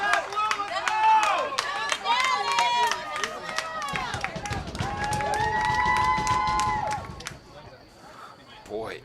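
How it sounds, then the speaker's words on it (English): Enthusiastic crowd cheering and yelling at a boys' high school soccer match between Stoughton and Attleboro, a steady roar of many voices with whistles and shouts, loud and sustained, fading near the end. "One enthusiastic crowd"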